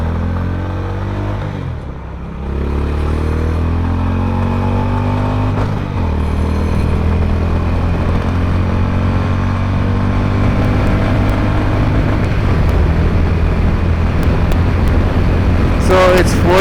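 Honda H'ness 350 motorcycle accelerating in fourth gear past 120 km/h, a loud, steady engine drone with slowly rising pitch and wind noise.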